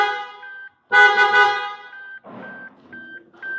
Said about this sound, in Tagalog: we replaced the horn